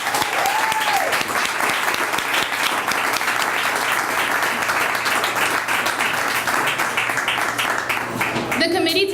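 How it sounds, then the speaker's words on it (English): Audience at a fundraiser for Pavel Payano breaks into steady, loud applause that fills the whole stretch, with voices talking faintly underneath and tapering near the end. "giving them a round of applause"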